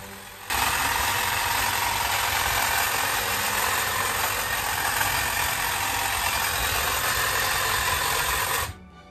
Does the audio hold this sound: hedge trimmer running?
yes